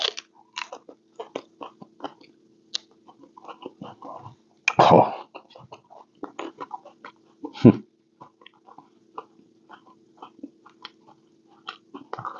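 Crisp bites and crunchy chewing on a scorpion pepper, close and fairly quiet, with scattered mouth clicks and a couple of louder crunches, and no talking.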